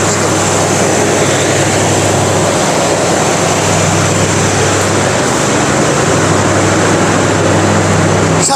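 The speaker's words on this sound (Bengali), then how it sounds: "কক্সবাজার এক্সপ্রেস যে ট্রেনটি সেটি কিন্তু এগারোটা বাজে ছাড়ার কথা ঠিক সময়ের কিছুটা পরেই কিন্তু এই ট্রেনটি ছেড়ে গিয়েছে কমলাপুর রেলওয়ে স্টেশনে" The Cox's Bazar Express pulls out of Kamalapur railway station, filling the clip with a loud, steady rumble of rolling railway cars that stays nearly constant throughout, with no talking.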